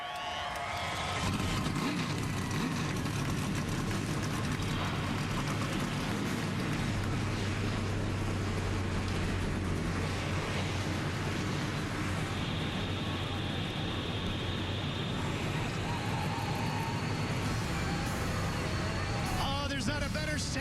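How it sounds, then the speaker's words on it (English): NASCAR Truck Series engines firing up together at Texas Motor Speedway before the race, a dense, steady roar that continues loud for the whole stretch, mixed with crowd and wind noise. "Drivers, start your engines!"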